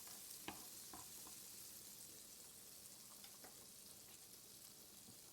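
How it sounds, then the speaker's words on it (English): Sausage mac casserole being stirred and melted in a pan, a steady soft sizzle with faint scraping clicks of the spoon scattered throughout, fairly quiet and close. "We're going to kind of stir it around and get it all melted in here."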